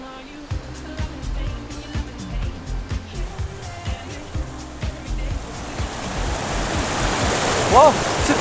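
A mountain river flows steadily along a trail-race course near Arpette during the 6000D race, its broad rushing wash building louder toward the end beneath thudding footsteps and faint voices.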